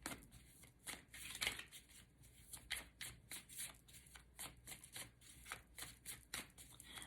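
Tarot cards being shuffled by hand: soft repeated riffles and slaps of card stock in a steady rhythm, faint and close, with no voices.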